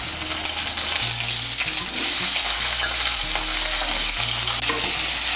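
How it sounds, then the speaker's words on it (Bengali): Two small potatoes cut into pieces fry in a pan with a continuous, fairly loud sizzle and repeated scraping of the spoon as they are turned. "আলুগুলোকে ভেজে নেব।"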